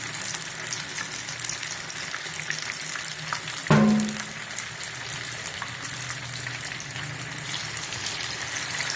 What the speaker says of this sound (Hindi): फ़िश को इसमें ऐड करें ज़रा ध्यान से, क्योंकि ऑयल के छींटे पड़ सकते हैं